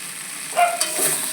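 Egg curry masala being stir-fried in a pan gives a soft, close sizzle with a few brief scraping stirs, fairly quiet and without talk.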